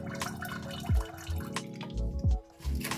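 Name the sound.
vinegar squirted into a kettle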